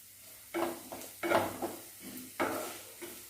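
About 400 grams of mushrooms hit hot oil in a pan for a pepper roast, producing irregular bursts of sizzling and stirring with light utensil clatter, fairly close and without speech.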